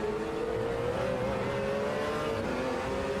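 A GT race car in Automobilista 2 at Sebring powering out of corners, engine droning and climbing in pitch as it accelerates, a steady close roar under the cockpit with no voices.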